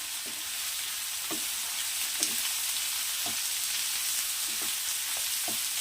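Chopped onions and tomatoes sizzle steadily in a hot pan while being stirred for a simple masoor dal, with soft periodic scrapes of the spoon over a continuous frying hiss.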